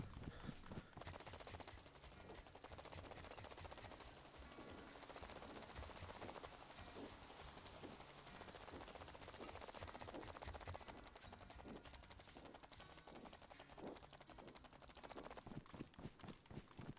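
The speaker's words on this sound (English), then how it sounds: "That sounded like gunshots." Gunfire in the DayZ video game rings out as distant shots, heard as repeated sharp cracks and thumps scattered over a dense, continuous background of ambient game noise.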